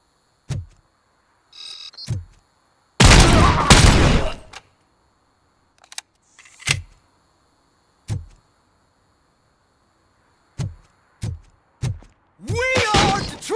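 RoboCop video game combat brings repeated sharp gunshots and a dense burst of rapid fire, with other game sound effects in between and a loud final shot.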